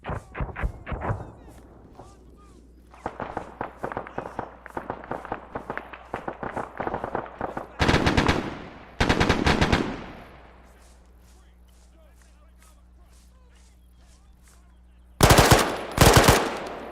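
Automatic gunfire in a military simulation video game set in Chernarus, heard as rapid rattling bursts laying down covering fire, near and loud, with louder dense volleys at intervals and quieter gaps between.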